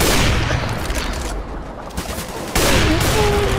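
Loud, dense gunfire in Counter-Strike, a continuous roar of rapid shots that dips briefly and then surges back close and heavy.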